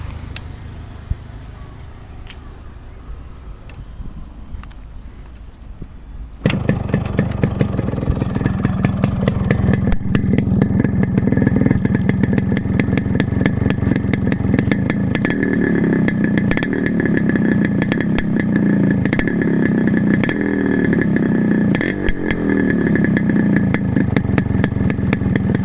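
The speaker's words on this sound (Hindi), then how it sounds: "Okay, so I'll just start the bike, right?" A quiet stretch gives way to a Yamaha RX100 two-stroke motorcycle engine firing up, then a steady buzzing, rattly two-stroke drone that revs and holds loud and close.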